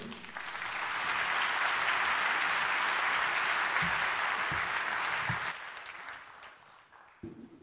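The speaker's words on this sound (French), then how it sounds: "Vous pouvez l'applaudir." An audience at an economics conference gives a speaker walking on stage a full, even round of applause that swells, holds for several seconds, then fades away into quiet room noise with a few thumps.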